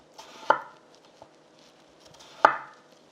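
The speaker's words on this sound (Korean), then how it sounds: "그냥 옆면을 살짝 따세요." Kitchen knife slicing off the side of a vegetable on a cutting board: two crisp, separate chops about two seconds apart, close and fairly quiet, with low background hiss.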